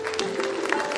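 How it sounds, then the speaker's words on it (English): Audience applause for the chief guest at a book launch, a dense brief patter of clapping at moderate level lasting about a second. "A big round of applause for our chief guest."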